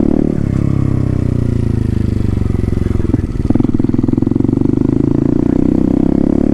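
A Herald Maverick 125cc motorcycle, nearly four years old, runs steadily while riding, its engine a continuous loud low drone with a constant rumble and a brief scrape or clatter around the middle.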